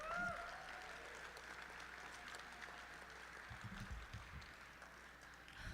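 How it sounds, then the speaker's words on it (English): A crowd at a brewing competition awards ceremony applauds in a steady, faint wash of clapping that runs for several seconds, heard from some distance with no voices over it. "Let's give LJ one more round of applause."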